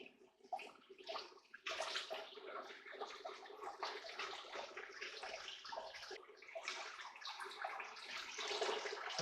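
Water flows and splashes through a gold pan as gold flakes are panned, an uneven close trickle and wash that surges in bursts and settles briefly before picking up again.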